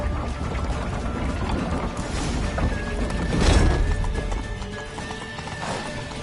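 Hooves clatter in a quick rhythmic clip-clop amid a horse's whinny, with mechanical clanks and a swelling crash midway, loud and close, from a horse galloping in the video game The Witcher 3: Wild Hunt.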